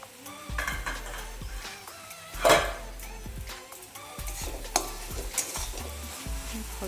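Crab curry fries in a pan, sizzling steadily up close while a spatula scrapes and knocks against the metal at intervals, with one louder clatter partway through.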